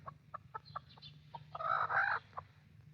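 Chicken clucking in a series of short, evenly spaced calls, then a louder, longer squawk near the end, heard alone over a low steady hum.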